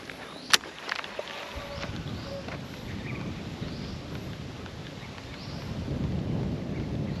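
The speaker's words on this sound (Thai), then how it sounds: "ลมพัดนี่สิครับ" Wind gusts across open shallow water during a Thai snakehead fishing outing, a steady broadband rush that swells toward the end, with a sharp click early on and no talk.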